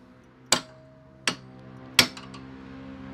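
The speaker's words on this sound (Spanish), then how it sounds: "con un cincel y un martillo vamos a retirar la primera parte" Three sharp metallic strikes of a hammer on a chisel while working on a 2010 Ford Focus, evenly spaced and ringing briefly, with a faint hum underneath.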